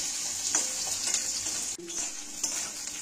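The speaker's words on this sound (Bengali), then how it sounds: "এইবার আলু আর পেঁয়াজ একসাথে তেলের মধ্যে ভালো করে নাড়াচাড়া করে ভালো করে একটু ভেজে নেব।" Potatoes and onions stirred and fried together in oil, a steady hissing sizzle broken by a few spatula scrapes and a brief pause, close and fairly loud, without talk.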